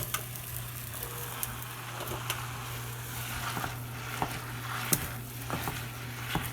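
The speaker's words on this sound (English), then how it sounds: "Keep mashing it with the meat masher." Ground beef sizzles steadily in a hot pan while a meat masher breaks it up, adding soft irregular scraping and tapping over the continuous close frying hiss.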